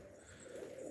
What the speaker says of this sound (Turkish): Beyler, bir tane beyaz bir kuş var.